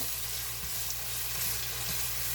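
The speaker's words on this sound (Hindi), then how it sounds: "तो ये एक लार्ज वाला प्याज हमने फ्राई करने के लिए डाल दिए" A large onion fries in about half a cup of oil for a Sindhi biryani, producing a dense, continuous sizzle that stays even and close throughout, with faint stirring and no speech.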